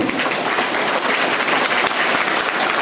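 Children clap loudly together as a crowd, producing dense, sustained applause that stays even and full throughout at close range.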